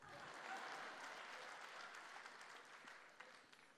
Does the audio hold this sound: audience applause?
yes